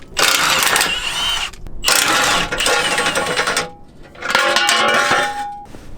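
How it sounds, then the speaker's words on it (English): A ratchet wrench working the bolts on a transfer case skid plate, three long bursts of rapid, loud, close metallic clicking separated by brief pauses, with no talking. "Got to take off the transfer case skid plate so I can get to the bolts on the drive shaft."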